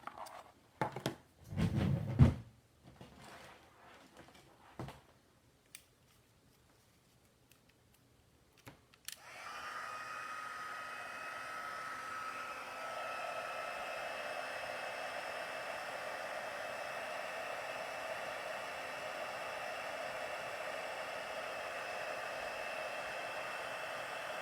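A heat embossing tool blows hot air to melt embossing powder on a daisy frame craft piece, a steady whooshing hiss starting about a third of the way in and running unbroken to the end, after scattered handling noises and a near-silent pause.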